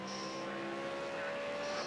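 The leading V8 Supercar in a sim racing game of the Bathurst 1000 drones past on track, a steady close engine note with a tonal whine shifting slightly as it goes by.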